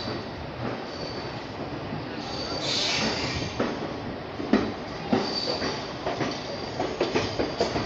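Bhagalpur Jaynagar Express rolling in at platform 4 of Bhagalpur Junction, a continuous rumbling rush of wheels with a brief squeal and rhythmic clacks over rail joints, steady and fairly close, with faint platform voices underneath.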